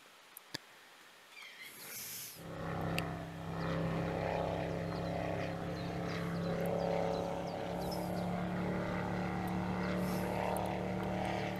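A boat engine in a fishing video game starts after a brief quiet moment, then runs as a steady droning hum that continues without a break, with no talk over it.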